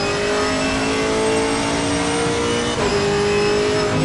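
A Camaro race car in Assetto Corsa Competizione revs hard with a loud, sustained engine drone, briefly dipping as it shifts gear and then climbing again.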